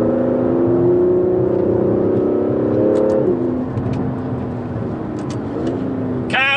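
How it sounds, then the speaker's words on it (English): An Aston Martin DB11 engine rumbles steadily and loud on a bumpy country road, its pitch dropping as the gearbox downshifts around midway and again later, with a brief higher burst near the end. "that gearbox on the downshift is just mega"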